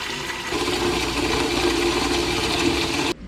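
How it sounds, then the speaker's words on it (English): Water runs steadily from a tap into a pot for about three seconds, a constant rushing stream that stops abruptly at the end. "So we're gonna fill that up with water next"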